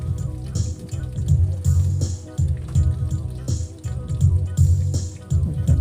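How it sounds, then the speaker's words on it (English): Water flowing into a washing machine drum, a steady low rushing wash with faint dripping and splashing throughout, close and fairly loud, no voices. "See that water is flowing."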